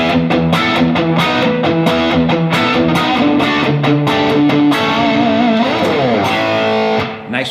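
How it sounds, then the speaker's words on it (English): Les Paul electric guitar played through the distorted channel of a Blackstar HT-5R tube amp, with chugging rhythmic chords and sustained notes running steadily and close, then cut off abruptly near the end. "A distorted sound with a Les Paul."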